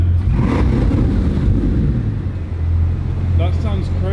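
A Bugatti Chiron Pur Sport, rebuilt after being wrecked, revs with a steady deep engine drone up close. Its note rises and settles while people talk over it.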